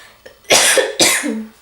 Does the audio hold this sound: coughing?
yes